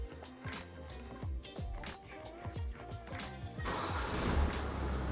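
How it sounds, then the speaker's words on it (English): A Peugeot's engine cranks and starts after its keys are programmed, a run of rhythmic cranking pulses giving way to a steadier, louder running rumble near the end. "we need to check that the car starts."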